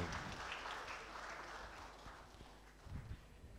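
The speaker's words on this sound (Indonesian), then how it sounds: "kita berikan tepuk tangan yang meriah untuk dokter spesialis baru" Steady, dense applause from a seated audience fills a specialist and sub-specialist doctors' inauguration ceremony at Universitas Airlangga in Surabaya, holding level throughout with a few sharper claps swelling near the end.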